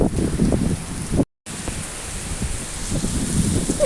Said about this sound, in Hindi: बहुत ज़ोरदार बारिश हो रही थी